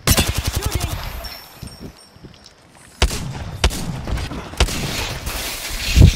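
Fast automatic gunfire in Apex Legends, a rapid rattling burst at the start followed by a pause and then several sharp, loud single shots and short bursts, with a voice speaking between them.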